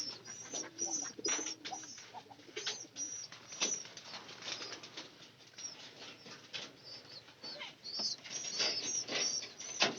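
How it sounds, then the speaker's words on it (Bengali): A pair of pigeons fed on corn, cooing in low repeated rolling calls close by, with bursts of wing flapping and soft rustling throughout. "দুইটা পায়রা"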